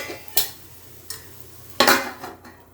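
Metal lid clanks onto a pan of vegetable pancake cooking on a gas stove at medium flame; three separate clattering knocks, the last loudest, over a faint background hum.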